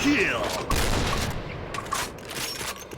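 A sniper rifle shot in the online shooter game Point Blank, a dense booming blast amid busy game noise and rattling gunfire, with a voice talking over it.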